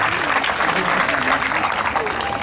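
A large crowd at a gathering in Bas-Congo, Democratic Republic of the Congo, claps loudly and continuously, a dense wash of applause with voices and shouts mixed in.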